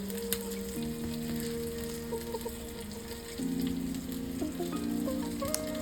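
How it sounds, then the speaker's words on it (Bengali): Vegetables for kebabs grill over a high stove flame while being brushed with mustard oil, a steady close sizzle running throughout beneath a tonal background, with no speech. "চুলার আঁচটাকে বাড়িয়ে ঠিক এইভাবেই সবজিগুলোকে আমি গ্রিল করে নেব আর একটু করে সরিষার তেল আমি ব্রাশ করে দিচ্ছি"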